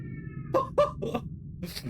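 A stray cat in a video game meows loudly, giving three or four sharp, close calls in quick succession over a low background hum, with a breathier cry at the end.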